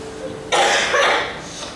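A single cough bursts out close by during a church talk, short and sharp against quiet room tone.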